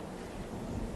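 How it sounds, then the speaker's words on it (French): Steady, loud wind blowing across a dark forest level in the video game Bloodborne, a continuous broad rush with no voices. "Il y a du vent là. Vous entendez?"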